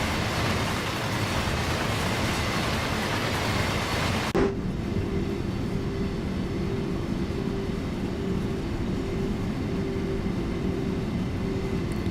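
A simulated MRCE BR182 locomotive and DB ICE 1 run along the Kassel–Würzburg high-speed line in Train Sim World, a loud broadband rushing roar that suddenly drops to a quieter hum with a steady tone, continuous throughout.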